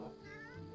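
A cat in the fantasy role-playing game Divinity: Original Sin 2 gives a single short, faint meow against a steady background hum.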